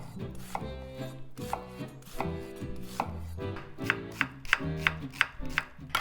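A knife dices an onion into tiny pieces on a board for a one-pot stuffed pepper soup, giving a steady run of close, crisp chops that quicken toward the end, with faint music underneath.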